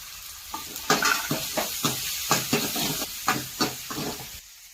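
Onion and tomato stir-frying in a pan, a steady sizzle broken by about a dozen rhythmic scraping stirs, close and fairly loud, with no voices.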